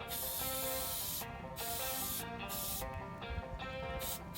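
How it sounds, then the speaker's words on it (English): Aerosol air filter oil sprayed onto a dirt bike air filter: a loud, close hiss in long continuous bursts, cut by brief pauses between sprays. "Spray this black part"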